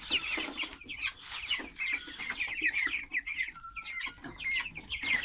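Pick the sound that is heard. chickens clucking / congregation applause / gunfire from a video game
chickens clucking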